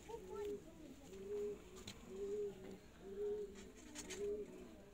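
Female Sialkoti pigeon cooing, a series of soft, rhythmic, low coos repeating about once a second, close by and fairly quiet against a faint background.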